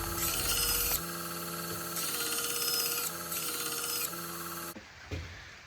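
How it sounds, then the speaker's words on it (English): A belt grinder with a 120 grit belt sands the bevel of a Damascus Bowie knife, a steady, bright rasping hiss that rises and falls in several long passes before cutting off near the end, with no talking. "I've moved from a 40 grit belt up to a 120 grit belt to help smooth out those bevels"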